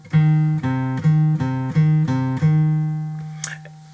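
A guitar plays a minor third interval, two notes back and forth several times in a steady rhythm, then a final note sustains and fades; clear and close.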